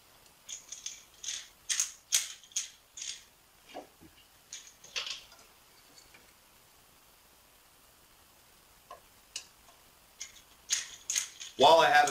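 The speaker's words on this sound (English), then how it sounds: "While I have it flipped up and I'm unscrewing this" Screws being backed out of a BitFenix Colossus micro-ATX computer case, heard as a string of short, close metallic ratcheting clicks in bursts with quiet pauses between, ending in a louder scrape.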